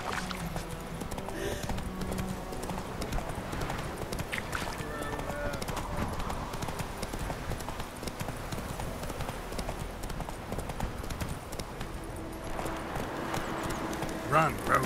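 Roach, the horse in The Witcher 3, gallops with rapid rhythmic clip-clop hoofbeats that continue throughout, over game background sound and some spoken voices.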